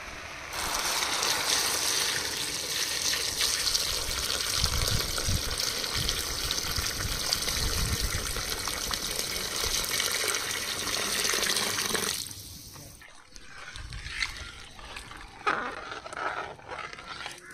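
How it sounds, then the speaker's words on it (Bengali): Water is poured onto sautéed vegetables in a pot for khichuri, making a loud, continuous gushing splash that cuts off near the end and leaves quieter bubbling and clatter. "এবার জল দিয়ে দেব"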